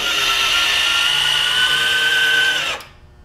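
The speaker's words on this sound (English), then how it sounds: "This is the actuator for the chute." A linear actuator swings the chute of a Craftsman snowblower, giving a steady, fairly loud electric motor whine with a rising tone that runs for nearly three seconds and then cuts off abruptly.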